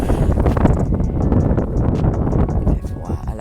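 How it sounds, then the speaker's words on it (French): Wind blows hard on a cold, rainy shoreline, a loud continuous rumbling roar that buffets the microphone without letup. "le vent se relève là"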